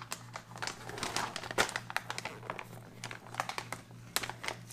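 Crinkly plastic packaging of a pepperoni pizza MRE ration is torn and pulled open up close, giving a dense run of irregular crackles and crumpling bursts over a faint steady hum, with no talking.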